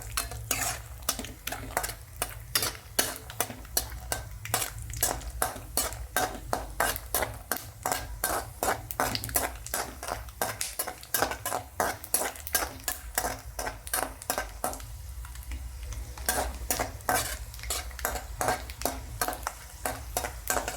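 Peanuts and cashews fry in oil while being stirred briskly, a constant sizzle broken by rapid, regular metallic scrapes and clacks of a spoon against the pan, close and fairly loud.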